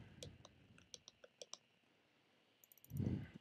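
Computer keyboard typing while building a Trainz railway layout, a short run of separate close key clicks followed by a pause and a louder dull thump near the end, with no talking.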